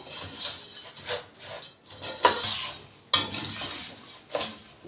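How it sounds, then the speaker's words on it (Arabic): Rice frying golden in a pan is stirred with a utensil, producing soft, irregular scraping and rubbing strokes at moderate volume, with a few sharper clinks against the pan. "وبكده الرز قلبناه، خد اللون الذهبي بتاعه"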